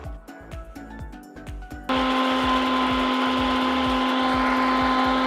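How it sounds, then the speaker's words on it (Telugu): A kitchen mixer grinder grinding roasted dry chillies and coriander seeds for pepper chicken: a few clicks and knocks come first, then the motor starts with a loud, steady high whine that runs unbroken to the end. "మిక్సీ జార్లోకి తీసుకొని గ్రైండ్ చేసుకుంటాను."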